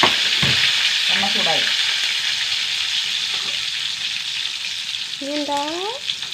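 Garlic cloves fry in hot oil with a steady, close crackling sizzle, accompanied by occasional scraping and a couple of short high whistling chirps in the background.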